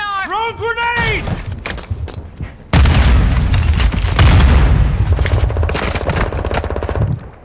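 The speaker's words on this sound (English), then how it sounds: "Throw grenade." A grenade goes off in a shooter game as a loud, sustained blast under overlapping gunfire, following a short rising synthetic effect, with voices talking throughout.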